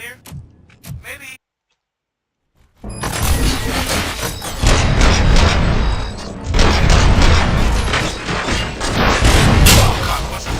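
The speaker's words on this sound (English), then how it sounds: "Gunshots? What's going on?" Dense, loud bursts of rapid gunfire and booming blasts from the video game RoboCop: Rogue City rattle continuously after a brief silence, with a voice speaking at the start.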